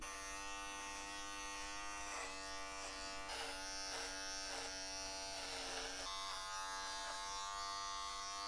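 An electric hair clipper trims a man's beard at home, a steady close buzzing drone that shifts in pitch as the blades move through the hair, with no speech.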